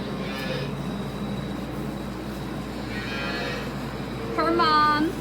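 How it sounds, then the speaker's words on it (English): A milking shorthorn cross Holstein cow on a farm gives a few drawn-out moos, one early, one midway and a louder one near the end, over a low steady background hum. "Her mom, his name is Marigold, she's my brother's cow."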